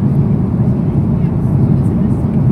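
Inside the cabin of a Thai Airways plane cruising from Bangkok to Chiang Mai, a steady, loud low drone of engines and airflow fills the air while someone speaks over it.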